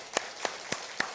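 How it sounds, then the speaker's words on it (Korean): A church congregation at Sunday worship claps for members' birthdays, a few sparse, separate claps spaced evenly and fairly faint in a quiet room. "축복의 박수 한번 해주시면 좋겠습니다."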